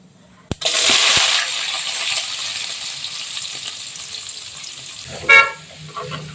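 Onions tipped into hot oil with browned chana dal and fennel seeds set off a sudden loud sizzle that settles into a steady frying hiss, with a brief clang of a utensil near the end.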